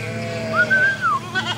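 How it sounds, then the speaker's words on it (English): Sheep and goats bleat on a grazing pasture, with one clear drawn-out wavering bleat in the middle and fainter bleats after it over a low steady background hum. "We got goats. Sheep, sheep, sheep, sheep."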